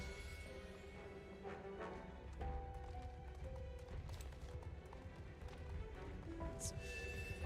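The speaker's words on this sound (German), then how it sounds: "Klingt nach einem ziemlich frechen Pferd" Rhythmic hoofbeats of a horse in the game Star Stable clop steadily over a busy background of tones and ambient game noise, with occasional brighter accents.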